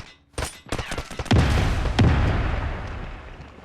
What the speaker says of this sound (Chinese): 再请对面吃一颗手雷。